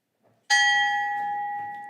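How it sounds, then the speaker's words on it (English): A single bell struck once at a gender equality ceremony, ringing out with a bright, clear strike and a long, slowly fading tone after a brief quiet moment. "If you would come ring the bell"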